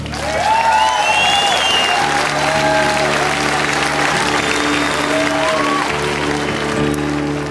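Sustained applause and cheering from a concert crowd in Dublin, a thick even wash of clapping with scattered whistles and shouts over a lingering musical drone.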